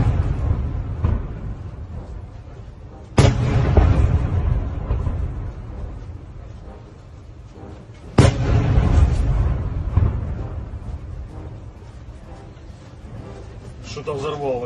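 Two HIMARS rocket launches sound in a military setting, each a sudden sharp blast followed by a long, loud, roaring rumble that slowly fades. Voices talk over the noise.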